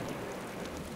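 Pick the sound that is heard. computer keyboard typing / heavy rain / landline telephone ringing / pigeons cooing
heavy rain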